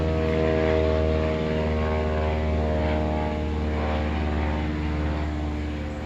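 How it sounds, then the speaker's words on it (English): A droning airplane engine with a steady propeller hum passes overhead, loud and continuous, slowly fading toward the end. "I'll wait till the plane goes over."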